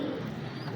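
A sturdy female pigeon coos nearby in a short low burst, soft and throaty against a steady background hum, with no one talking.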